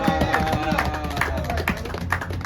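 A church congregation claps and calls out in a loud, dense burst of applause with music underneath, steady throughout with a few sharper peaks.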